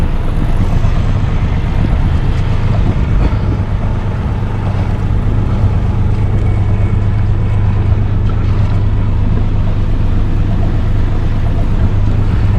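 An outboard-powered boat motors steadily away from Chamberlain Bay on a calm, windless evening, its engine a continuous loud drone with water wash throughout and no talking.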